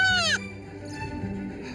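A young goat kid on a Yorkshire farm gives one loud, close, wavering bleat at the start, followed by a quieter stretch of barn background.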